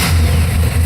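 Stock car engine in a street-legal body-swap build, a brief loud burst of deep rumbling engine noise as it fires and revs, heard close up with no talking.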